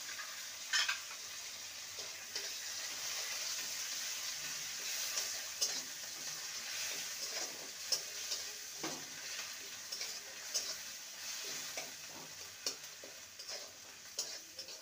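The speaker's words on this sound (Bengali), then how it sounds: "টমেটোর শাঁসটা আর কাঁচা লঙ্কা কুচি দিয়ে ভালো করে নেড়ে নিয়েছি" Tomato pulp and chopped green chilli fry in a pan for spicy bhindi, with a steady hiss and sizzle and frequent light scrapes and taps of a spatula. The sounds are fairly quiet and close, with no voices.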